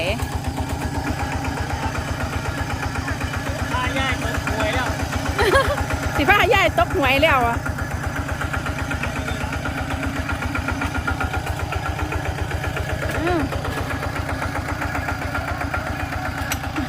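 A steady, low tractor engine rumble runs throughout with a regular chugging pulse, while a person talks over it.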